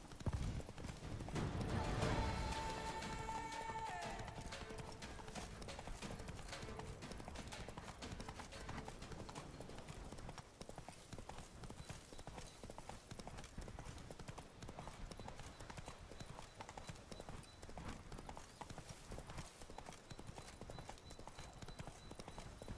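Roach, a horse in Witcher 3, trots with steady, quick clip-clopping hooves throughout, louder at first with a brief whinny-like sound near the start, then continuing at a moderate level.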